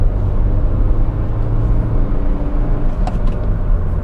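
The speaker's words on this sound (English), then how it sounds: "I love the sound of that turbo in this car." A Hyundai Veloster Turbo with a 1.6-liter turbocharged engine runs steadily, heard from inside the car as a loud, low engine drone and road rumble with no talking.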